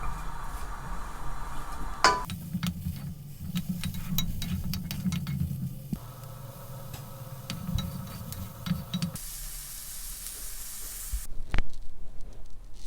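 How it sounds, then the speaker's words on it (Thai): Chili paste ingredients dry-roasting over medium heat in a pan, a soft continuous sizzle and hiss with scattered clinks and scrapes of a utensil against the pan, fairly quiet and close. "ใส่ส่วนผสมทุกอย่างเลยค่ะ ลงไปในกระทะเนาะ คั่วไฟ กลางๆนะคะ"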